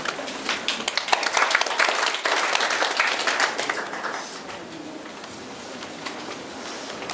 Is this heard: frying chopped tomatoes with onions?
no